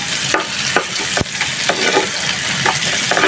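Tender young greens frying in a pan, a loud, close, continuous sizzle with several scraping stir strokes and a sharp clack of a utensil partway through, with no speech.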